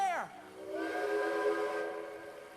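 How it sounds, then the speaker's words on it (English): A steam locomotive whistle sounds in a valley, a sharp falling blast followed by a sustained, echoing multi-tone wail that fades out, loud and alone. "Wild whistles echoed and bounced off his boiler."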